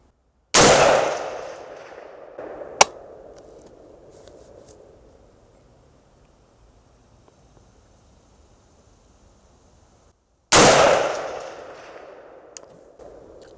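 AR-15 rifle chambered in 7.62x39 firing at steel targets outdoors: two loud sharp shots about ten seconds apart, each trailing into a fading echo, with a brief metallic clang after the first and wind noise between.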